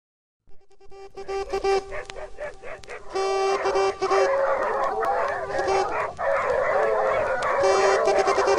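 Several Grand Gascon (Gascon Saintongeois) puppies bark, yip and whine together at close range, a busy overlapping chorus of high, strained calls that grows steadier and louder after the first few seconds.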